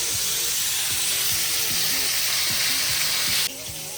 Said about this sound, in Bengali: পটলগুলোকে এমনভাবে ভাজতে হবে যেন সব দিকে সুন্দর করে ভাজা হয়